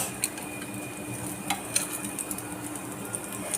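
Chicken tikka masala being stirred and tossed in a pan with a spoon, a steady soft sizzle underneath and a few sharp metallic scrapes and clinks standing out, close and moderately quiet with no talking.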